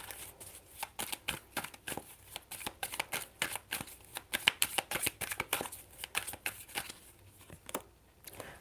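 A deck of emotion cards is shuffled by hand during a card reading, with repeated riffling bursts in an uneven rhythm, close and fairly quiet.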